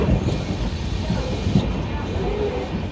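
A train pulls out of Bagdogra Junction after a two-minute halt, giving a steady rumbling hiss of wheels and carriages with a high whine above, continuous and fairly loud.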